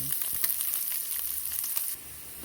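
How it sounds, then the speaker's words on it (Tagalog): Pork, garlic and onion sautéing in a pan for mung bean stew, a steady close sizzle with light stirring clicks throughout, dropping slightly quieter near the end. "nagisa na natin yung ating pork, bawang, sibuyas"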